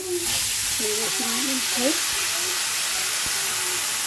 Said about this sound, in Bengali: এবার এটাকে একটু নাড়াচাড়া করে নেবো, ভাজা ভাজা করে নেবো।